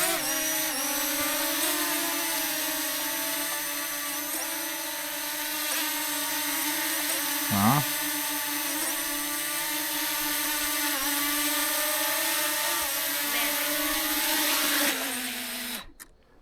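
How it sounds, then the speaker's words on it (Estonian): A camera drone flies outdoors on a fine day near a river, its steady high-pitched multi-tone whine sustained and fairly close for the whole stretch, with a brief pitch swoop midway and an abrupt cutoff at the end. "Natukene lennutasin drooni."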